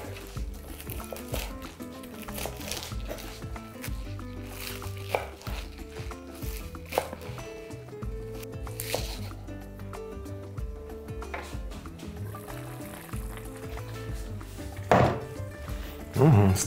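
Knife chopping parsley and green onion on a board, a run of repeated close taps in uneven rhythm, moderately loud, with a few louder knocks near the end and no talk over it.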